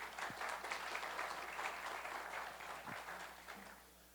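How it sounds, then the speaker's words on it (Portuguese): An audience at a university lecture event claps for about four seconds, a dense steady applause that gradually fades out, quiet and without talk. "Uma salva de palmas."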